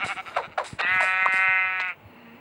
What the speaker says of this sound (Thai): แกะอย่าไปไหน